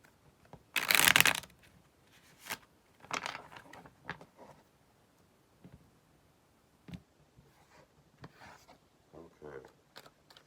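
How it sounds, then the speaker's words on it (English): Tarot cards shuffled by hand, a loud riffling burst near the start followed by several shorter, softer shuffling and card-handling rustles spread through the rest. "that shuffle was screwed up"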